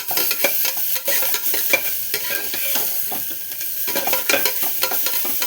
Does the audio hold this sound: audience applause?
no